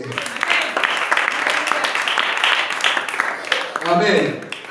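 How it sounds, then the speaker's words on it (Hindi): A church congregation at a Nigerian worship service claps hands together, a dense steady clatter filling the room for several seconds while a voice speaks and calls out over it near the end. "क्या आप ताली बजा सकते हैं?"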